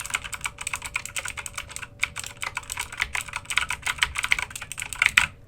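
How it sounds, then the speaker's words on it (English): Rapid, light keystrokes on a SteelSeries Apex 7 mechanical keyboard with blue switches click and clack in an irregular, quick rhythm, close and fairly quiet, with no voices. "This is light typing on the Apex 7."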